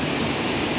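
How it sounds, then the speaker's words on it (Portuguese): Water rushes over the spillway of the Zabumbão dam in Paramirim, Bahia, a steady, dense roar that fills the whole moment without a break. "Olha o zoadão da água."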